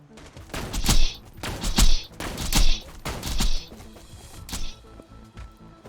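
Sniper rifle fire from the Borderlands game: about five loud, sharp shots at roughly even intervals, each with a short crackling tail and a brief gap before the next.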